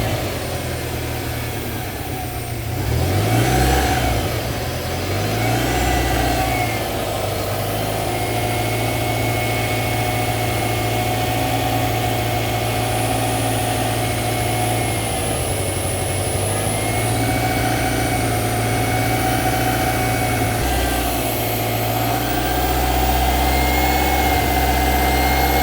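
A 2006 Subaru STI idles steadily up close with a disconnected vacuum line, a continuous engine rumble under a persistent high-pitched whine, with a brief revving swell early on.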